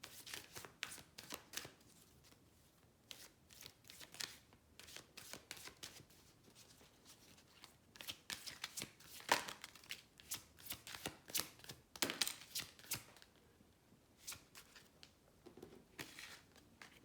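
Tarot cards are shuffled and pulled in quick papery riffles and flicks, close and quiet, in uneven bursts with short pauses between.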